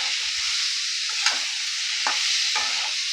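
Chicken mince with turmeric sizzles in a pan under a bright, continuous hiss, with a few sharp scrapes of stirring cutting through, close and unaccompanied by voices.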